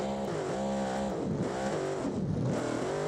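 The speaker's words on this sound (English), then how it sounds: "Revving it up for a little bit." Revving engine of a 2000hp drag car in the game Automation, a loud continuous roar whose pitch climbs and falls through several rev sweeps with no voices over it.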